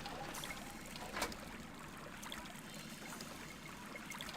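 Water trickles into a flooded room in the Prisoner of Ice video game, a faint, continuous dribbling wash with one slightly louder splash near the middle.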